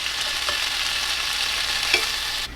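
Prosciutto crisping in a dry non-stick pan without oil over medium-low heat, a loud, close, continuous sizzle that cuts off abruptly at the end.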